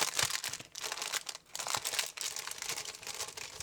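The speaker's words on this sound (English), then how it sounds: "Sorry for the crinkling" Plastic packaging around colouring supplies such as small blending brushes crinkles close up in continuous rustling handling.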